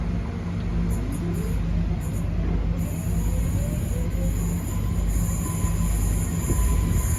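A Class 170 diesel train rolls through University railway station in Birmingham, a loud steady rumble of wheels and engine up close, with high-pitched wheel squeal and faint clickety-clack throughout.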